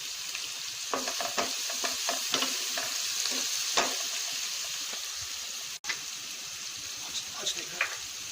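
Mushrooms sautéing in a pan with salt for a home-style sauté, a continuous soft sizzle with scattered stirring scrapes and light clicks, close and fairly quiet, no talk.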